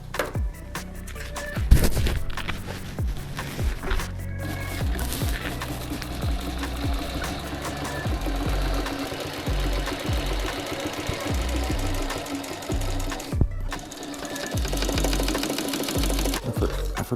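Sewing machine running steadily while stitching motorcycle seat upholstery in orange ostrich-pattern material, a dense mechanical chatter with rapid needle strikes and a few brief pauses, close and fairly loud throughout.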